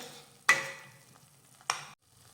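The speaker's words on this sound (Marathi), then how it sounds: "आता हे बेसन पीठ आपण असं व्यवस्थित मिक्स करून घेऊयात" A spoon stirs gram flour into a matar paneer curry in a pan: two short, quiet scraping strokes over a faint background hiss.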